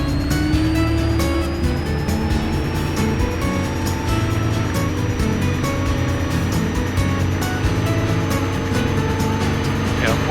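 Van's Aircraft RV-10 with an automotive engine conversion and reduction gearbox running at high power, a loud steady drone with a faint whine on top, heard from inside and continuous throughout.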